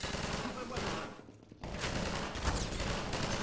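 Rapid gunfire in the video game Half-Life 2, dense overlapping shots loud and close, with a brief lull about midway before the firing resumes.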